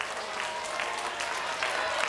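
A soccer crowd at a Melbourne Zebras match applauds after a goal, steady dense clapping throughout, moderately distant and even.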